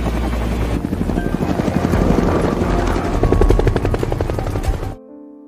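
A military helicopter flies close overhead, rotor blades thudding in a fast, loud, regular chop over a whining turbine, then cutting off abruptly near the end.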